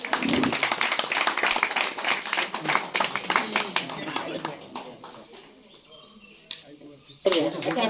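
Audience applause at a Kulswamini anniversary felicitation event in Kalwandwadi, a dense run of many hands clapping that swells early, gradually thins and fades, then picks up again in short bursts near the end.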